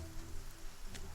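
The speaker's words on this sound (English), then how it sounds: "Enjoy some of that ASMR light rain." Light rain patters softly and steadily, faint and diffuse, with a brief brighter splash near the end and no voices.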